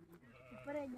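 Goats bleat at a desert village house in winter, a couple of short wavering calls heard close by amid light background voices.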